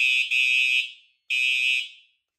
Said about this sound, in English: I actually didn't think that it would alarm again right when it starts initializing